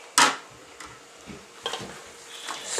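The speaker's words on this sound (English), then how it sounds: "Stir it around." A spoon stirring homemade Italian sauce with added beef stock in a pot: a sharp clink at the start, then soft intermittent scrapes and light sizzling, close up and without speech.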